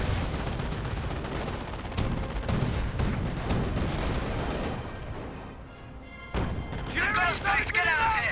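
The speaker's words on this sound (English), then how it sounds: "It will take 2 more shots to take out that Stuart." Gunfire and tank cannon blasts ring out in a Company of Heroes battle, with shots aimed at a Stuart light tank. Booms and rattling fire overlap amid battle noise, with a short lull and then renewed blasts while a voice talks over them.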